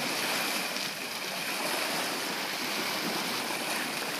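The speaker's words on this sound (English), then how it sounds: "Listening to the waves." Waves wash against the rocky shore of Georgina Point on Mayne Island, facing the Strait of Georgia, in a steady broad rushing surf with no voices heard.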